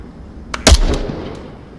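A single sharp gunshot fires in a VR shooter played with a ForceTube haptic gunstock, a loud crack followed by a brief rumbling tail and one fainter pop, with no talking.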